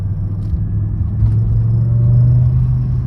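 A BMW M5 E60 pulls in third gear with a steady low engine rumble that rises slightly in pitch and loudness as it builds, heard close from inside the car with no voices.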